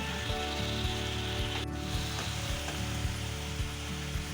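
Pabda fish curry frying with spices in a pan, a steady dense sizzle running throughout with faint stirring scrapes and occasional soft clicks, no talk.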